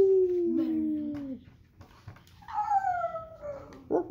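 A person imitating a wolf howl with long, sliding, wavering cries, two drawn-out howls separated by a short pause, close and fairly loud.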